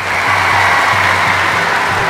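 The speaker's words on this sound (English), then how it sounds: "the crowd are doing their bits, plenty in to try and encourage success for this athlete" Crowd in the London 2012 Aquatics Centre in a PC video game, a steady, dense roar of cheering and applause filling the arena before a swimming race, loud and continuous throughout.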